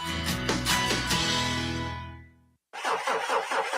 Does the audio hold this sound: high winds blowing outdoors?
no